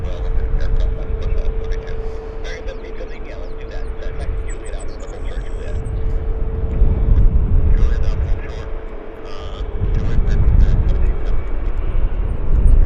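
An airplane roars at Vancouver Airport, a loud continuous engine rumble that rises and falls over several seconds, heard outdoors with a person talking over it.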